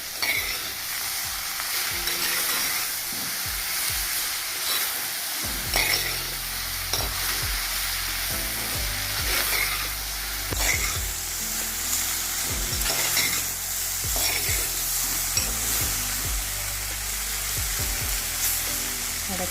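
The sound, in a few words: okra (vendakka) being stir-fried in a pan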